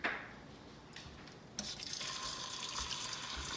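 Fries drop into hot vegetable oil held in a pot: after a quiet moment, a bright, steady bubbling sizzle starts abruptly and carries on evenly, close by.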